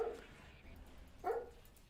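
A pet dog barks twice nearby, a short bark at the start and another about a second later, faint in a quiet room with low background noise.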